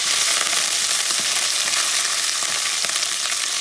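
Vienna sausages sizzle and fry in a pot for rice with sausages, Puerto Rican style, with steady crackling broken by soft scrapes of stirring, close and constant with no talking.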